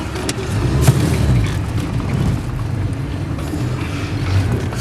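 A four-wheel drive vehicle climbs a hill on the Lancelin to Cervantes route, its engine a steady rumbling drone with broadband road and wind noise throughout and no talk over it.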